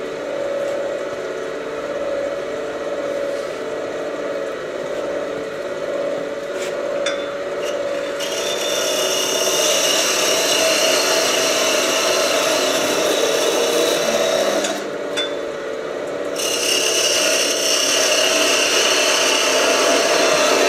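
A quarter-inch hole is bored into wood for a Christmas ornament, with a steady power-tool whine and grinding that runs throughout and gets louder and brighter partway through, briefly dips, then resumes. It is heard close and alone.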